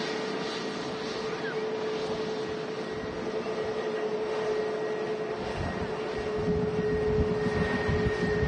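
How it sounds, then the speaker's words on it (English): An EasyJet Airbus A320neo departs Manchester Airport for Lisbon, its engines producing a moderate, steady roar with a faint whine, slowly swelling toward the end. "First EasyJet of the show, A320 Neo. Heading out to Lisbon."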